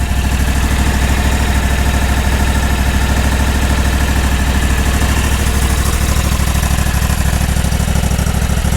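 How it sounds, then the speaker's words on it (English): Freshly re-ringed Kawasaki FR730V V-twin engine idling steadily, a loud, close, even low chugging throb that holds unchanged throughout with no voices. "I'm gonna let it idle for 5 minutes."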